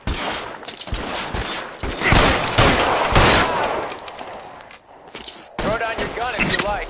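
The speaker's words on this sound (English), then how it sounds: "Lay down some covering fire." Dense, rapid gunfire from a shootout in L.A. Noire: overlapping bursts of shots, some crackling and some heavier, fire nearly continuously, with only a brief lull before a final volley.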